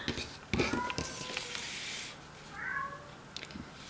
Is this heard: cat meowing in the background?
yes